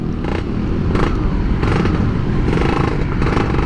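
Motorcycle fitted with an FJP Racing Muffler exhaust and a PE 24 carburettor, a loud, close, rough exhaust roar with pulsing surges and clatter throughout, no voices.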